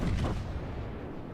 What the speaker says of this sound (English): This is the power of German battleship guns